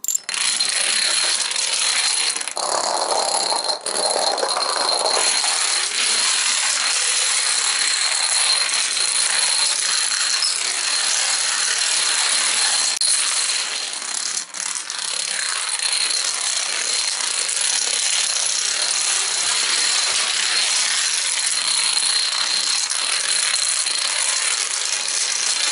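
A long run of about a thousand toppling dominoes in a homemade rally, a steady dense rattling clatter of small tiles going on continuously and fairly loud for the whole stretch, with no talking.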